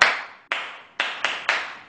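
Several children clap together in a kindergarten maths class, giving five separate loud claps at uneven intervals, each with a short fading tail, with no talk over them.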